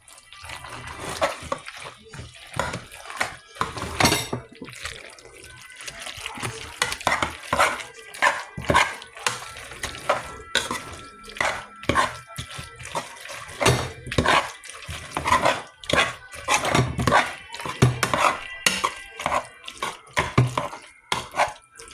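Food for a baked chicken, macaroni cheese and carrots meal being mixed in a pot, with repeated scraping and clattering strokes in an uneven rhythm, close and moderately loud, over a faint wet sizzle.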